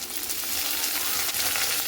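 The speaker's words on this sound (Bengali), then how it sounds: "পেঁয়াজ কাটাটার সঙ্গে খুব ভালো করে এইভাবে আমি ভেজে নিচ্ছি" Garlic and chopped onion fry in a pan with a steady, close, dense sizzle that carries on without a break, and no one speaks.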